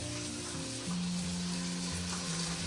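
Tomato goes into a pan of frying onions, and a steady, close sizzle fills the whole stretch over a faint low hum.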